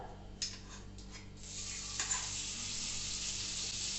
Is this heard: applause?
no